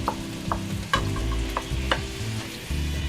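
Chicken tenders crowd a frying pan, browning with a loud continuous sizzle punctuated by sharp stirring clicks and scrapes, close up with no talking.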